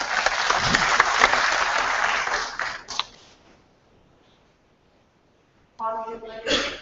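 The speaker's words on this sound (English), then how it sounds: "Ladies and gentlemen, a big round of applause." A conference audience gives a round of applause that holds for about three seconds and fades into near silence, followed by a voice starting to speak.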